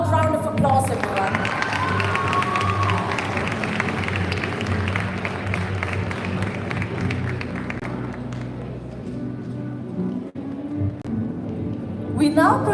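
Audience applause and cheering fill a school prize day hall, steady crowd clapping mixed with voices and whoops, holding strong for most of the stretch before tapering near the end.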